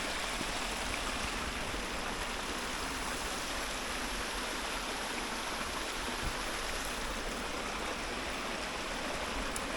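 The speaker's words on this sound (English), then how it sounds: "I do love me some waterfalls." A waterfall beside a hiking trail roars in a constant, dense wash of rushing water that stays steady and loud throughout, with no voices.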